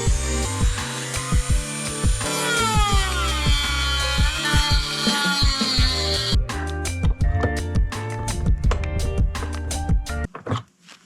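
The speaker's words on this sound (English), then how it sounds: "I'm going to use my Dremel and just grind that open." A loud, high-pitched Dremel rotary tool whines and grinds steadily, its pitch rising and dipping, then breaks into rapid choppy bursts before cutting off near the end.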